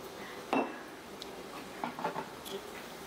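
A spoon mixes raw mustard oil and chopped coriander in a bowl, making a couple of light clinks and short scraping strokes against a faint background hiss.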